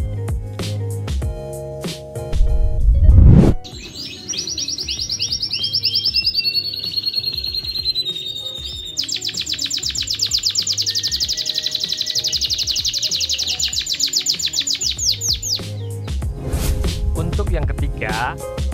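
A canary sings in long, rapid trilled phrases, high and clear, after an opening stretch of other sounds and a brief loud burst, with sustained rolling song through most of the clip.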